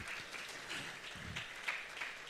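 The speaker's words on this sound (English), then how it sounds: "I think that deserves another round of applause." An audience at an education leadership summit claps in a steady, moderately distant round of applause that continues without pause across the whole stretch.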